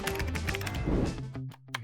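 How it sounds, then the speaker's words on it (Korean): Quick, close clicking of keys on a toy laptop keyboard made from styrofoam with added buttons, a short burst of light taps that thins out and stops near the end. "이제 더 빨리 타이핑할 수 있죠."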